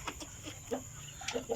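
Mixed-breed broiler chickens on a farm, a few short faint clucks and soft calls spread over a second and a half against a steady background hum.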